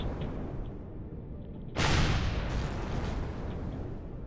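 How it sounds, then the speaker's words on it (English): Enemy homing rockets fired during combat against Zirax defenses in the space survival game Empyrion, a sudden loud blast and rushing roar breaking over a low rumbling background, then a second burst a moment later that tails off. "And that one is firing homing rockets."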